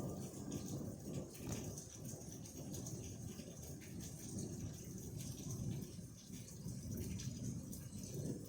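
Thunder rolling through a lightning storm, a low continuous rumble mixed with steady rain and rattling, soft and distant throughout.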